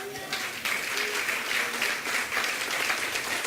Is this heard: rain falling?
no